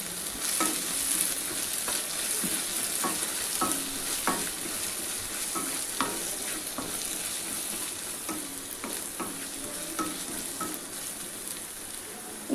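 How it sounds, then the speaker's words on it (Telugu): Chopped vegetables with fresh mint and coriander stirred in a sizzling pan for a chicken stuffed capsicum filling, a continuous frying hiss punctuated by repeated spoon taps and scrapes throughout. "కొంచెం పుదీనా, కొంచెం కొత్తిమీర వేసుకుందాం. ఒకసారి కలుపుకోవాలి."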